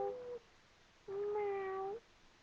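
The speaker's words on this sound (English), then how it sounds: "Kitty, kitty, kitty. Meow." A cat meows twice close up, first a short call and then a longer, drawn-out whiny meow, in a quiet room.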